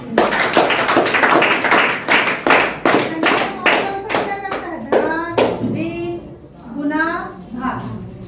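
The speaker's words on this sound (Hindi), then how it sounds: "गुड, ताली बजाओ" Schoolchildren in a maths class clap in a quick, even run of sharp claps that stops after a few seconds, followed by a teacher speaking close by.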